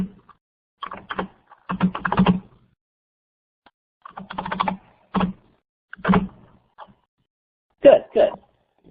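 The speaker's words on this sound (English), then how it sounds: "I'll type out the answer" Typing on a computer keyboard during a probability and statistics lesson, heard as short clustered bursts of key clicks with pauses between them, close and fairly clear.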